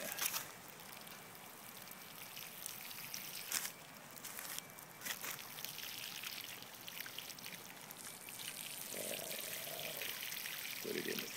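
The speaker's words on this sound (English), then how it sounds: "give them a good, nice watering there" Water pours from a watering can onto tomato plants, a soft, continuous splashing trickle heard close but quiet, with a brief low voice partway through.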